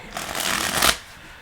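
A close riffle shuffle of tarot cards, a quick flurry of card flicks rising to a sharp finish, then quiet.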